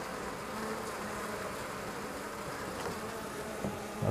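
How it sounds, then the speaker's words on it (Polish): Honeybees crowd a hive feeder and make a close, continuous droning buzz that stays steady throughout with no talking. "No tu są pszczoły w tej podkarmiatce tak niefortunnie."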